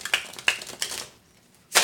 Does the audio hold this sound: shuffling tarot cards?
yes